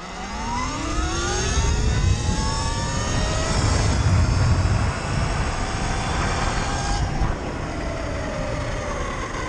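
Surron Light Bee 72V electric dirt bike with a BAC 4000 controller accelerating hard in mode 5, a loud rising electric motor whine sweeping upward over wind and tyre rumble, sustained close for about seven seconds before easing, with no talking.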